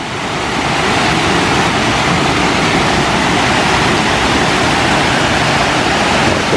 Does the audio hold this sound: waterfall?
yes